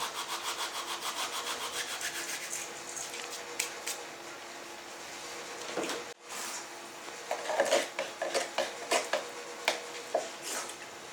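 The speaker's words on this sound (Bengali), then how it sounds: "কালো জিরে এটাও একটু ডলে দেবো" Black cumin seeds are rubbed between the palms for a lentil fritter batter, giving close, dry, rhythmic scratchy rustling strokes, steady at first and then more broken, with no talk.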